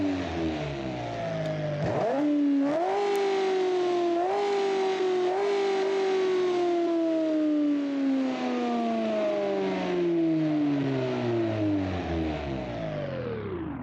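A simulated car engine in BeamNG.drive revs loudly and steadily, climbing in pitch with a few quick throttle blips before winding down slowly at the end, with no talk over it.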